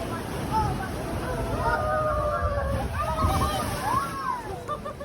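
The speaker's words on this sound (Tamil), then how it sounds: "இந்த தண்ணியோட சவுண்டாக இருக்கட்டும், எல்லாமே வந்து ரொம்ப பீஸ்ஃபுல்லாக இருந்துச்சு" Amazon river water sloshing and washing against a moving boat, a steady broadband wash throughout with a voice talking over it.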